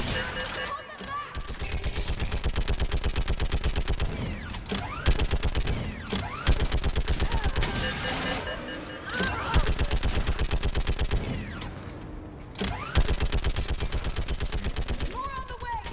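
Sustained Mass Effect 3 battle gunfire, mostly dense machine-gun bursts, rattles continuously with brief pauses, loud and close, while voices shout orders over it.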